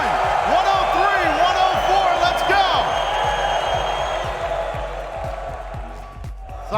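A large esports arena crowd at a Rocket League Spring Major lower final, Karmine Corp versus Team Vitality, keeps up a loud, steady roar of cheering and whooping, with scattered claps and voices mixed in.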